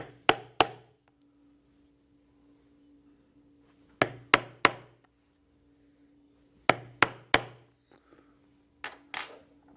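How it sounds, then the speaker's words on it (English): A 1/8 inch hand punch is struck into leather to make rivet holes, heard as sharp, close mallet strikes in quick groups of two or three with quiet pauses between them. "I will punch 4 holes for rivets with the 1/8 inch punch."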